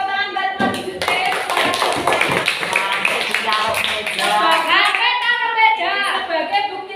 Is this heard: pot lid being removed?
no